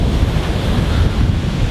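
Strong wind buffets the microphone while waves break loudly and continuously on Arugam Bay beach in Sri Lanka during the off-season, a dense, roaring wash with no pauses.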